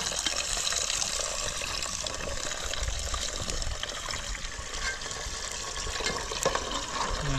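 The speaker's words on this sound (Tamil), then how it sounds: "தேவையான அளவு தண்ணி ஊற்றிக்கோங்க." Water pours steadily into a cooking pot for noodles over a fire in a forest, a continuous close splashing gush that lasts the whole stretch without talk.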